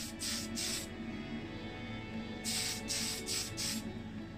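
Aerosol spray paint going onto a die-cast Matchbox Ford Anglia model in short hissing bursts, two near the start and a quicker run of four later, close and steady over a low room hum.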